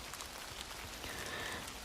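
Steady rain falls outside in Canada, a soft continuous patter with no pauses, fairly quiet and even throughout.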